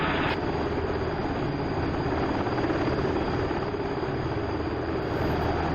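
A Pave Hawk helicopter in a DCS flight simulator game, flying a water search-and-rescue sortie, its rotor and turbine drone loud, steady and continuous throughout with no voices.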